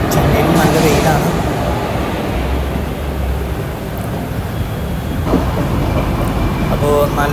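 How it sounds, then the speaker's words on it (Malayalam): A loud, steady rumble fills the cabin of the Navajivan Express, train 12656 running from Chennai to Ahmedabad, as it moves at speed near Chennai, with faint rattles on top. A voice can be heard talking under the noise. "നല്ല പിടപെടച്ച് തന്നെയാണ് ട്രെയിൻ പോകുന്നത്"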